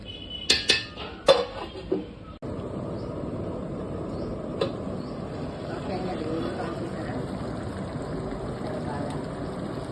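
A lid set onto a cooking pot of boti curry gives several quick metallic clinks and clanks close by, followed by a steady low cooking rumble.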